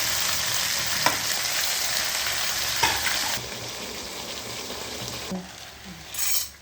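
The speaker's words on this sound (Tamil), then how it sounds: "எல்லாத்தையும் போட்டு வதக்கணும்" All the ingredients for tomato kulambu sauté in a pan with a continuous loud sizzle and occasional spoon scrapes, and the frying grows quieter partway through.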